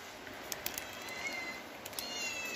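Several cats meowing softly and briefly, a few short high calls scattered over a quiet, steady background hiss, with no talking.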